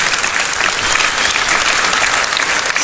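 Sustained applause from a school assembly audience honoring bold youth at a junior high safe schools event, a dense steady clatter of many hands throughout with no voices over it.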